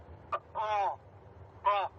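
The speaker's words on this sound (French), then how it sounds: "Le son de détresse du cormoran." Recorded cormorant distress call broadcast from a loudspeaker as a bird-scaring device: a short harsh croak followed by two longer raspy, buzzing calls, fairly close and clear over a low background rumble.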